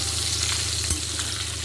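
Potatoes coated in salt and turmeric fry in hot oil until reddish, giving a steady, close sizzle with a faint hum beneath and one brief clink near the middle.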